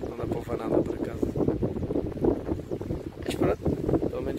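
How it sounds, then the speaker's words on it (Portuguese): Strong wind buffets the microphone on a fishing boat on the Tagus river, a loud rumbling roar that gusts throughout, while a person talks over it. "está a vento com força"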